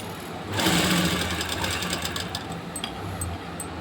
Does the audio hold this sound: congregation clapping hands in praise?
no